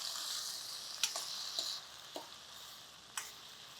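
Two red tomatoes dropped onto onions already frying for masala khichdi produce a quiet, continuous hissing sizzle, punctuated by a handful of sharp utensil taps and knocks.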